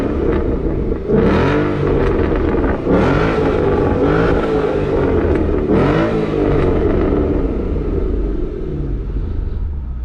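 A Ford Mustang GT with a 5.0 V8 revs hard with its active exhaust open, several loud, close rising blips and throaty rumbling bursts over a steady idle.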